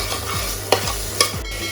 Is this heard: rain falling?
no